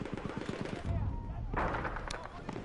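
Rapid gunfire exchanges in a competitive video game match, with multiple shots traded in quick bursts under a commentator's voice.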